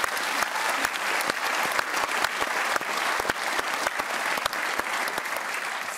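Steady applause from a television studio audience, dense clapping at an even loudness throughout, with a few sharper claps standing out near the front.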